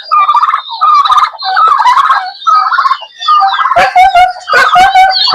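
Turkeys on a poultry farm gobble and call loudly and close by in repeated bursts, with harsh yipping notes that grow denser toward the end.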